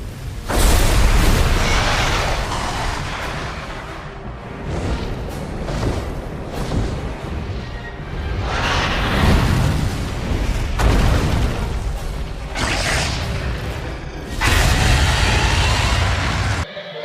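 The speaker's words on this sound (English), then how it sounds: "Behold the fire wyvern, Rathalos." Rathalos, the fire wyvern of the Monster Hunter video game, in loud, dense booming bursts and roaring blasts that swell and recede over the whole stretch, with fiery explosive surges and no speech.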